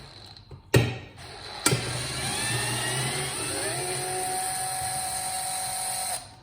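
A power driver in low gear whirs up to a steady, high-pitched whine while backing Torx screws out of a Kirby Ultimate G vacuum cleaner during a teardown. Two sharp clacks come first, then the motor runs loud and continuous for several seconds before stopping.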